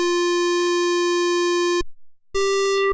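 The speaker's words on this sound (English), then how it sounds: "So when I press a key now, it should gate the VCA and the sound will come out through the filter." A Roland SH-101 synthesizer plays a square wave through its filter as a loud, clean buzzing note that holds for nearly two seconds. After a short silence, a second, slightly lower note sounds.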